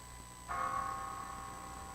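A phone's bell-style alarm goes off in a church during a Sunday sermon. It starts about half a second in as a steady, fairly faint ringing tone that continues to the end over quiet room noise.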